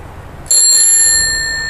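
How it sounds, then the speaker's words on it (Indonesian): A rare brass Simplex bell on a maroon Simplex Cycloide cross-frame bicycle gives one sharp, bright ring that sustains and slowly fades, loud and close with no talking. "bel yang langka, bel Simplex"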